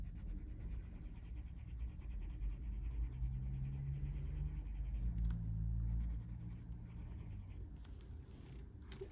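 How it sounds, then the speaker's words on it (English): A colored pencil, including a cream pencil used for blending, shades on the paper of a coloring book in soft, close, scratchy strokes over a quiet background. "I think I'll bring a cream pencil in to blend the middle."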